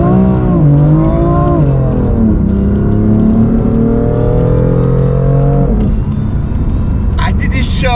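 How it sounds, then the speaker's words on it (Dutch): A BMW M4 GT4 race car engine roars loudly and continuously, its pitch rising and falling through gear changes, with a sharper high whine near the end. "Het geluid van deze auto, deze serie, is zo onwijs lekker."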